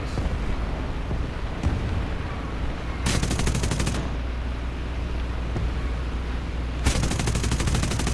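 Aircraft machine guns fire in the War Thunder video game during a Spitfire and Fw 190 dogfight, with two loud, rapid sustained bursts over a constant engine roar.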